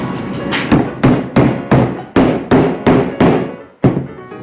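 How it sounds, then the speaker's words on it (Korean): Solid wooden knocks land in a steady series of about ten hits as a wooden mallet drives a wood joint together, each ringing briefly, close and loud. "그렇기 때문에 나무망치로 어느 정도 때려봅니다"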